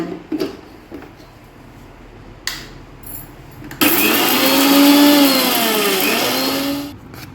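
A kitchen mixer grinder powdering mustard seeds starts with a few knocks and clicks, then runs as a loud whirring motor roar for about three seconds before cutting off.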